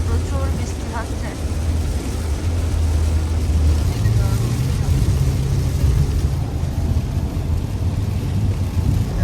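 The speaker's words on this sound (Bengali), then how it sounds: "হঠাৎ বৃষ্টি চলে আসছে, সামনে কিছুই তো দেখা যাচ্ছে না, প্রচুর বৃষ্টি হচ্ছে।" Heavy rain pours on a car while driving, a dense, steady roar of rain and road noise with a low engine rumble, as someone talks over it.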